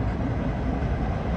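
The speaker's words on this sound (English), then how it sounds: "That's a southbound Red Line train" CTA Red Line southbound train arriving at Belmont station in Chicago, a brief steady low rumble and rolling roar of the cars, close and continuous with no voices.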